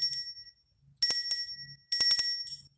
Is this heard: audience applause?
no